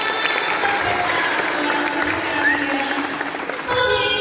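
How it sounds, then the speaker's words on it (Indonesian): Students at a vocational high school orientation applaud together, loud, steady clapping through the room that briefly dips near the end. "kita beri tepuk tangan"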